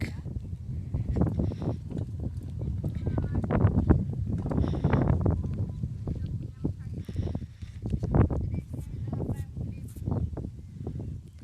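Gusty wind buffets the microphone with low rumbling thumps that rise and fall irregularly, while people talk faintly underneath.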